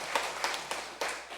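Congregation clapping at a church ordination ceremony in Gwangju, four or five sharp, loose claps in quick succession, fairly close.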